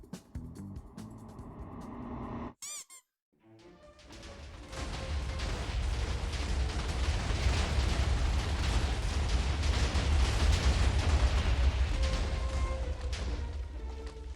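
Minecraft TNT blasts tearing through dug tunnels: after a brief silent gap, a sustained loud rumbling roar of continuous explosions rolls on for about ten seconds, dense and booming.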